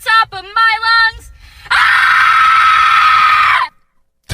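A man screams at the top of his lungs, a sustained loud, close, strained yell lasting about two seconds after a few short vocal bursts, then cutting off into silence.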